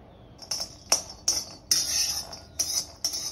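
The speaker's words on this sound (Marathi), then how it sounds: "आता अक्रोड भाजूया." Walnuts dry-roasting in a pan for homemade protein powder, with bright, rattling clatters as the nuts are stirred and tossed against the metal. The scraping strokes come in quick, irregular bursts, close and moderately loud.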